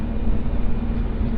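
Steady low rumble of a MEMU electric multiple-unit train pulling into Attili railway station, a dense continuous drone with a humming tone near, filling the whole moment without voices.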